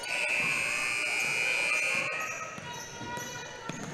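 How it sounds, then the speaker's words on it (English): A long, loud electronic shot clock buzzer sounds for about two seconds in a busy basketball arena, then stops, leaving crowd noise and a bouncing ball. "When they reset and it gets late, the buzzer often does go off"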